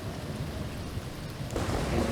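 Steady heavy rain fills the clip as a constant wash of noise, loud and close, growing slightly stronger toward the end with no voices.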